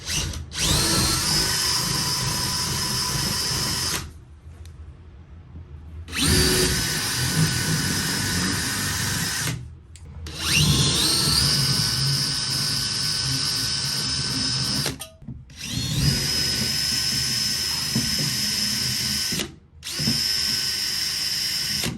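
Holes for pole toggle anchors are bored with a power drill during a California Closet installation: four or five sustained, high-pitched whirring runs with short gaps between, loud and near, no voices.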